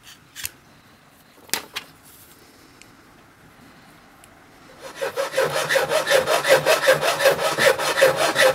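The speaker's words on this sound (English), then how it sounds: "I was always taught to use a hacksaw because it saves the blade of the key machine" Hacksaw cutting a key blank for a 1920s seven-lever vault lock, starting after a few faint knocks and settling into a steady, close back-and-forth rasp of quick, even strokes.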